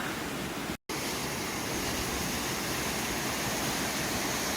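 Steady, dense rushing water roars without pause, a constant broadband wash that is briefly cut off once near the start.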